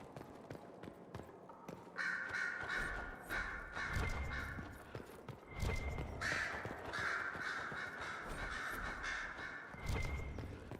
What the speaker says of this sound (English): Sister Leliana will want access to the birds